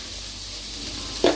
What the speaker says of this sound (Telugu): క్యారెట్ కూడా కొంచెం లైట్గా ఫ్రై అవ్వనివ్వాలి